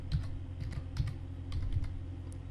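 Soft, close clicking of computer keyboard keys in quick irregular bursts, quiet and steady throughout.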